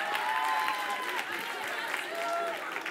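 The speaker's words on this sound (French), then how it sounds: "On applaudit, madame, s'il vous plaît!" An audience applauds a woman volunteer at a live comedy stage show, with sustained clapping from a crowd throughout, while a voice talks over it.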